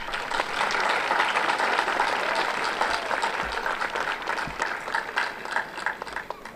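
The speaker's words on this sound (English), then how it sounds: "Another round of applause for her." Sustained audience applause fills a university commencement ceremony, a dense steady patter of many hands clapping at close range for the full stretch with no voices on top.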